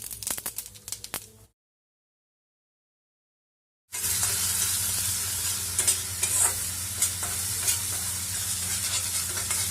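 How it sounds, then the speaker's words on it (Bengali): Turmeric powder, cumin powder, green chilli paste and whole cumin seeds frying in a pan for a cabbage curry, sizzling and stirred with scraping strokes, broken by a short silent gap before a steady, close hiss resumes. "মশলাটা ভাজা ভাজা হয়ে গেছে"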